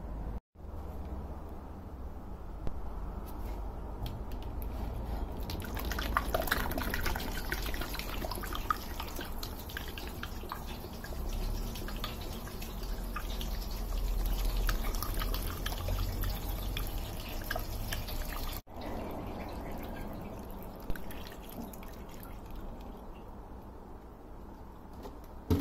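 Water, 2.5 litres, is poured into the fuel tank of a hydrogen-powered generator: a steady close splashing stream runs for most of the time, then eases into a lighter trickle and drips near the end.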